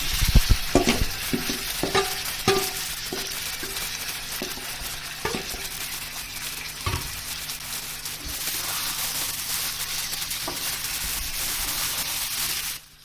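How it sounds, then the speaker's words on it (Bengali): A utensil scrapes and stirs chicken pieces coated in cumin and other ground spices in a frying pan while they sizzle for chicken curry. Rhythmic scraping strokes sound over a constant hiss of frying, close and clear, with no talking. "এই মশলাগুলো দিয়ে আমি এবার নাড়াচাড়া করব। এবারে মাংসগুলো দিয়ে দিলাম।"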